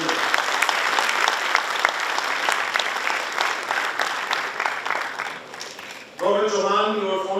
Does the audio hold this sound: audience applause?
yes